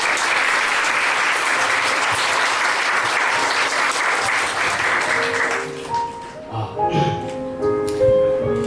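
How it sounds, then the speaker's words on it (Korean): Wedding guests at a church ceremony give a loud, sustained round of applause for the groom's parents, thick and close, fading after a few seconds into scattered claps and room murmur. "부모님께서 올라오실 때 박수로 환영해 주시면 감사하겠습니다."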